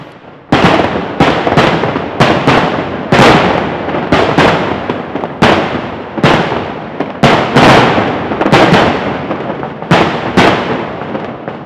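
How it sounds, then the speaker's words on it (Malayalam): Daytime fireworks at Thrissur Pooram in Kerala: dense strings of firecrackers crackle and bang loudly and almost without a break, with heavy bursts every second or so and no talk over them. "മാലപ്പടക്കത്തിൽ നിന്ന് ആരംഭിച്ച വെടിക്കെട്ട് പിന്നീട് കുഴിമിന്നലിലേക്കും അമിട്ടുകളിലേക്കും വഴിമാറിയപ്പോൾ കാണികൾ ആഹ്ലാദാരവങ്ങൾ മുഴക്കി"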